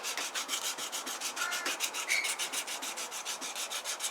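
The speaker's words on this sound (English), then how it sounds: "So I'm just starting with 80 grit" A belt sander fitted with an 80-grit belt works a piece of wood, rounding over edges and removing tool marks. It gives a continuous close rasping rub that pulses in a steady rapid rhythm throughout.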